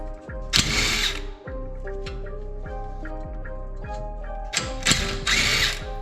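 A hand ratchet loosens the nuts on the brake brackets of a Nissan 350z, giving rapid clicking runs in short bursts with pauses and a few metallic clinks between them, close up and with no talking.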